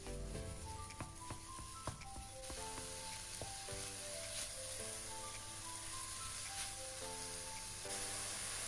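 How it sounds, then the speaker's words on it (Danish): 200 g of minced pork frying in a dry pan, a steady close sizzle and crackle running continuously, with faint stirring scrapes and no talk. "Steg 200 g hakket svinekød på en tør pande,"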